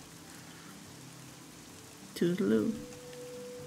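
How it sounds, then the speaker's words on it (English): Rain patters in a steady, soft hiss in the video game Fall of Porcupine, continuing evenly beneath a brief spoken voice. "Hopefully the rain will stop by then"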